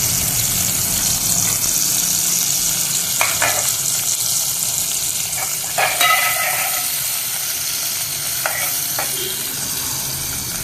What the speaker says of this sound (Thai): ใส่กระเทียมกับพริกครับ ผัดให้หอมครับ